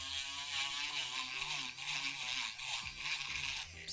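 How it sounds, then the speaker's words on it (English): Bead reamer grinding out a pearl's drilled hole, a close, continuous fine whirring scrape with slight fluctuations in intensity, heard alone without talking. "I'm still gonna ream just a little bit so you can see how I do that. Got my bead reamer."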